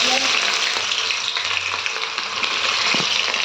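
Onion frying in hot oil makes a loud, dense, continuous sizzle close up, with faint stirring underneath and no talking.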